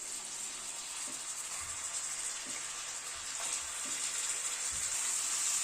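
Steady sizzling of mutton pieces frying in hot oil with ground spices such as coriander powder, a continuous hiss with a few soft clinks and stirring knocks, no talking.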